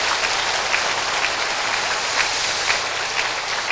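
A church congregation applauds in worship, a dense sustained patter of many hands clapping, steady and fairly loud, with a few sharper claps standing out.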